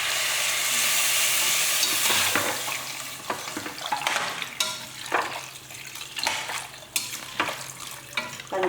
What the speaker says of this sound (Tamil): இப்போ இதில் கொஞ்சமாக தண்ணி ஊற்றிக்கலாம்